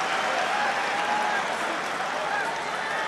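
Crowd applause fills a rugby stadium in Limerick after a Munster penalty against the All Blacks XV, a steady, dense wash of clapping that holds for the full few seconds with no break.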